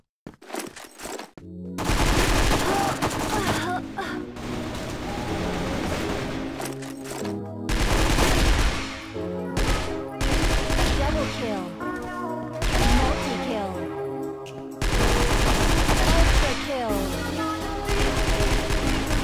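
Loud bursts of XM8 rifle fire from the shooter game Crossfire West, heard in several long rapid-fire strings separated by brief gaps.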